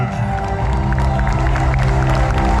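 A crowd at the 2022 Istanbul Sprint Triathlon podium claps and cheers loudly and continuously for the women's overall winner, with dense, sustained applause under a loud hum of crowd noise.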